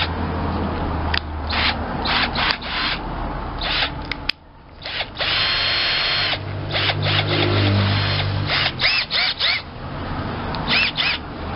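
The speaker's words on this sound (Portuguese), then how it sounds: "vou usar aqui essa broca" A drill bit boring into a milk pot, short whirring bursts of the drill starting and stopping in an uneven rhythm with a longer run midway, close and fairly loud.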